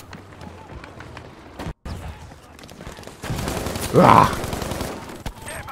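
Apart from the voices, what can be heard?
gunfire in video game Battlefield V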